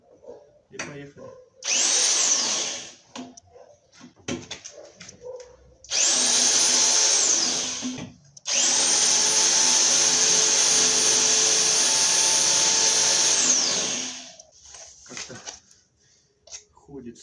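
A rotary hammer drill fitted with a chuck and set to drill-only mode runs in three loud, steady bursts with whining spin-up and wind-down. Brief rattles and handling noises come between the bursts.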